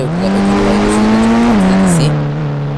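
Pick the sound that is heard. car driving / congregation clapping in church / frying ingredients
car driving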